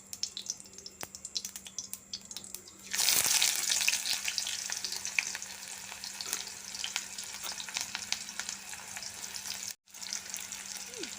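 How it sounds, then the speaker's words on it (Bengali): Cumin seeds tempering in hot oil in a pan for Maggi noodles: a loud sizzling burst begins around three seconds in and keeps crackling steadily, with a brief dropout near the end. "দিয়ে দিলাম একটু জিরে ফোড়ন।"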